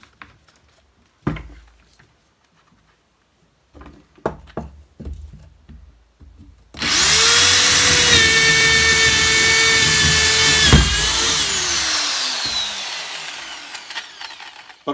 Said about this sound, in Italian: Si deve forare con la velocità massima.